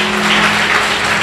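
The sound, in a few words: congregation applauding in church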